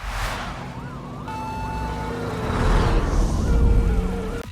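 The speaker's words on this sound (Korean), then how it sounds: "경찰차가 사이렌을 울리면서 날아오고 있음" A police car siren in a music video wails in rising and falling sweeps over steady traffic rumble, growing louder as it nears on a dark night.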